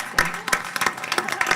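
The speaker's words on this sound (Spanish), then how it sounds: "un aplauso para ellos." Small audience at a photojournalism book presentation clapping sparsely, a few distinct uneven claps, fairly faint, with a voice faintly underneath.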